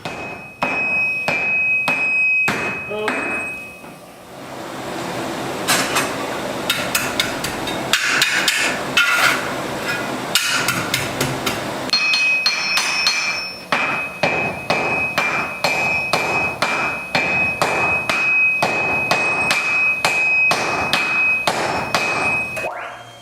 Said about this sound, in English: The bloom chunk is reheated several times and worked at a white welding heat into a rough bar, using sledgehammers to fuse all the iron together.